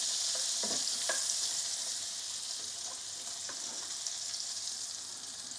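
Butter sizzles with cassia, cloves and cardamom in a hot pan, a steady, fairly quiet frying hiss broken by a few faint clicks from stirring, with no voices.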